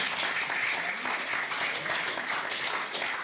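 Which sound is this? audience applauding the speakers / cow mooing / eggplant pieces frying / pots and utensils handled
audience applauding the speakers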